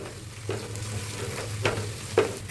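Ginger garlic paste with coriander, mint and green chilies frying in a pan: a constant close sizzle broken by three spatula scrapes at uneven intervals, with no talking.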